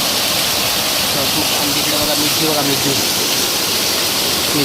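A downpour of heavy monsoon-style rain roars steadily and close, a dense continuous hiss beneath a man's short spoken remarks.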